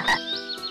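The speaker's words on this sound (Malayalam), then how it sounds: "ഇത് നോക്കിയേ, ഒരു ഉണ്ടക്കണ്ണൻ തവള" A cartoon frog gives three short, stylised, voice-like croaks in a quick, evenly spaced series, close and moderately loud.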